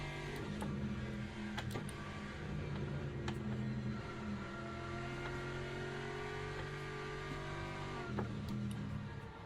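A race car engine in the sim racing game Le Mans Ultimate holds a steady tonal drone, with pitch shifts and a brief dip near the end as gears change, fairly faint and without talk.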